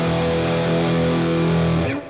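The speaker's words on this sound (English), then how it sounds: "I really love this Les Paul, typical Les Paul distorted guitar." Gibson Les Paul electric guitar played through heavy distortion, a thick sustained chord ringing loud and alone before cutting off near the end.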